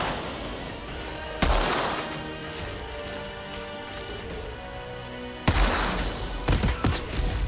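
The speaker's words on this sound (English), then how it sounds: "I heard the explosions." Explosions from mines in the PC shooter Outriders Worldslayer burst in two heavy, sudden blasts several seconds apart, with crackling debris and gunfire-like impacts over a steady game soundtrack.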